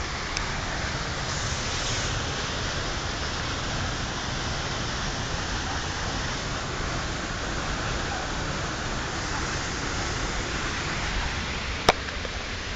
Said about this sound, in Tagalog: inyo nang maririnig ang lagaslas ng tubig mula sa talon.